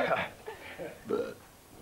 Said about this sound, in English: Can anyone else give us a burping blast?